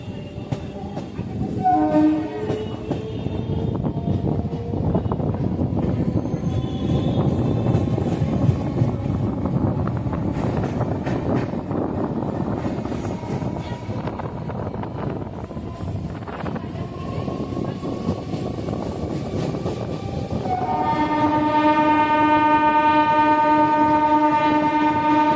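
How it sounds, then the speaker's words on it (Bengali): A local train pulls out of Rishra station with a continuous rolling rumble and rhythmic wheel clatter. Brief horn notes sound early on, and then a long, loud sustained horn blast plays over the final seconds. "ট্রেন রিসরা স্টেশন ছেড়ে এগিয়ে চলল পরের স্টেশনের দিকে"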